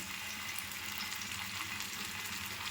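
Anchovies sizzle and crackle steadily in hot oil, a dense, even frying hiss heard up close, with no voices.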